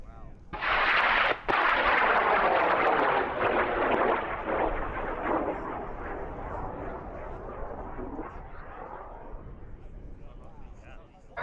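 High-power rocket from Texas A&M lifting off the pad at an Argonia Cup launch: a loud, sustained roaring rush that starts abruptly and fades slowly over about ten seconds as it climbs away, with people talking over it.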